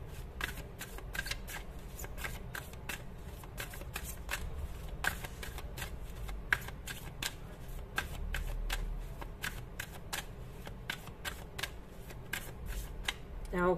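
Tarot cards being handled and shuffled for a card reading, a rapid run of crisp riffling flicks at close range, steady throughout, with someone talking faintly underneath.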